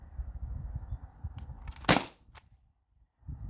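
A single sharp crack from a modified T4E HDB68 paintball pistol firing an aluminum ball, one loud close shot standing out after a low rumble, with quiet following.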